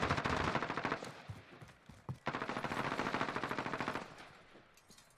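Rapid automatic gunfire from the Modern Warfare video game in a competitive esports match, with fast repeated bursts of shots firing loud and close, pausing briefly before another sustained burst.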